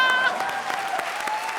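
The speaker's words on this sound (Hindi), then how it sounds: "जोरदार तालियां।" A studio audience at a televised comedy show gives loud, sustained applause, with a brief tonal voice or music cue at the start before the clapping continues alone.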